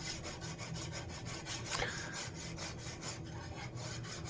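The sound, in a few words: filing a Norwegian seax knife blade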